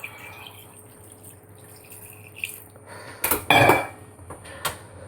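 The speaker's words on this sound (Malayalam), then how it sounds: "ഇനി ഇത് നമ്മൾ ഇതേ അളവിൽ വെള്ളം ഇതിലേക്ക് ഒഴിക്കുക" Water is poured into a pot of chicken curry, with a few short splashing bursts and light metal clinks from the pot against quiet kitchen background noise.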